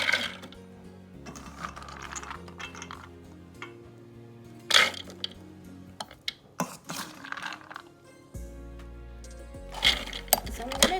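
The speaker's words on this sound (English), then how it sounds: "I'm gonna put them into my food processor, and I will give it a nice blend" A food processor working soaked ingredients for ladoo to a coarse finish, with uneven mechanical whirring, rattling and clunks in bursts, fairly loud and close.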